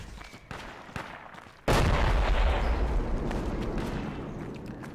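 A loud grenade blast in the military shooter Project Reality erupts after scattered gunshots, then a long rumbling roar of debris and continued firing fades slowly.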